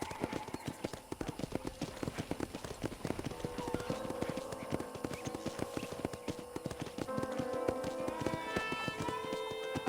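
Steady clip-clop of horse hooves at a trotting rhythm, loud and close, with tonal background music playing underneath, in Red Dead Redemption.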